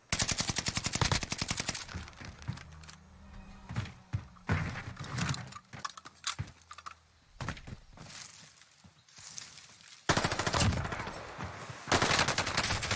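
Gunshots in the video game Call of Duty Warzone come as rapid automatic bursts, loud at the start and end with quieter single shots and scattered thuds in between, and no talking.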